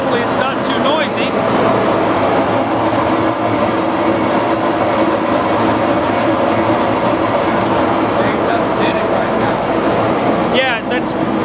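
A pulp fluidizer machine runs with a steady, loud, continuous mechanical roar and rumble, a constant drone with little variation from start to end.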